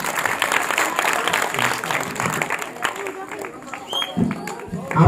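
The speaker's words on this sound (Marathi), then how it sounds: "टाळ्या वाजवा ना मग." A children's audience at a magic show claps together, a lively burst of many small hands that thins out and fades partway through, with a few voices and thumps near the end.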